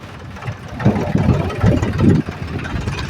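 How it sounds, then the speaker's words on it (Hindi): A tractor engine idles nearby on a farm field, its low, uneven chugging rumble pulsing loudly and steadily throughout. "अभी मैं ट्रैक्टर में बैठा हूँ, यहाँ पे अपने खेत आया हो"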